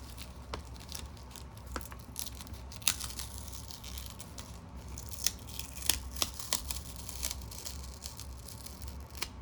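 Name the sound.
peeling sticker off vintage paper gift wrap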